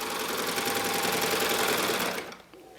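A Baby Lock Evolution serger stitches stretch fabric in a steady, fast mechanical whir that runs loud and close for over two seconds, then winds down and stops near the end.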